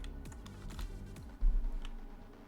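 Fingers type on a computer keyboard in a quick run of light clicks, close and fairly quiet, ending in a slightly heavier keypress.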